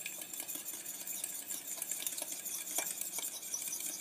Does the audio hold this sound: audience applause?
no